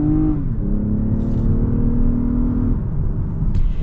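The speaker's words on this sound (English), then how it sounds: "So I've got the ES350 over into the sport mode right here" A 2021 Lexus ES 350 F Sport in sport mode accelerating hard, its engine droning loud and steady with a rising whine, a brief gear-change dip early on and another near the end.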